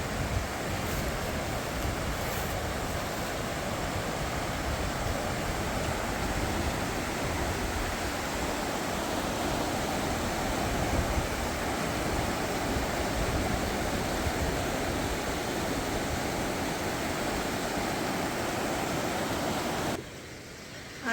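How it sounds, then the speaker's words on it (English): Rushing water from an Ontario waterfall and rapids on a late fall hike, a steady loud broadband roar that continues unbroken and close to the microphone throughout. "Even just for the sound of the rushing water."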